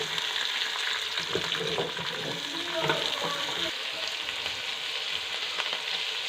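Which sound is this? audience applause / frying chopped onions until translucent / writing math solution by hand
frying chopped onions until translucent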